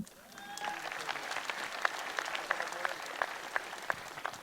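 Audience applause at a League of Legends ECC Poland opening event: scattered, fairly close handclaps over a steady crowd murmur, moderately loud and without speech.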